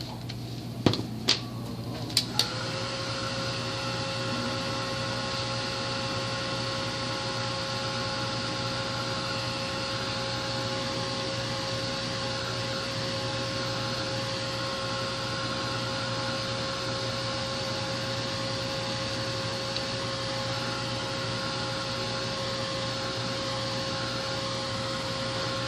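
A heat gun blows steadily on a coat of gel medium spread over paper, a continuous even whooshing hum that runs close and loud for the whole stretch after a few brief clicks at the start.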